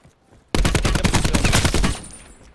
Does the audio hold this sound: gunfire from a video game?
yes